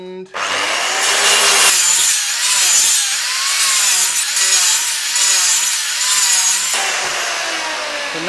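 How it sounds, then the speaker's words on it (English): Two half-lap joints cut in wood at once, the saw running as a loud, continuous rasping buzz close by for most of the clip with only brief dips, no talk over it. "I'm going to cut these 2 half-lap joints at the same time"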